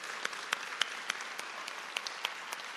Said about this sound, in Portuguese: Salva de palmas para esse time.